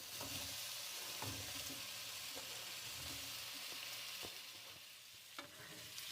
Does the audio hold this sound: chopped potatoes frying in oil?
yes